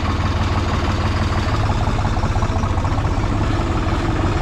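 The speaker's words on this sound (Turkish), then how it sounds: "Evet, traktörümüzü tekrar çalıştıralım" A tractor engine idles in a village field during the barley and wheat harvest, a loud, close, continuous low throb with an even rhythmic pulse and no talk.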